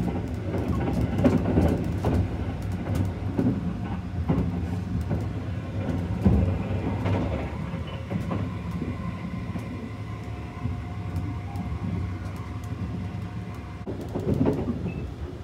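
The Sunrise Express sleeper train passes at night, a steady heavy rumble with rhythmic clicking of wheels over rail joints that stays loud for the whole stretch, with no voices.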